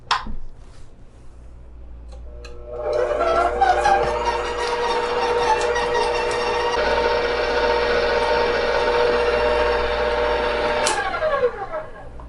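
An electric mixer creams cream cheese cookie dough on medium-low speed, a steady whirring drone with bright harmonic whine that starts after a quiet moment, runs for several seconds and winds down near the end.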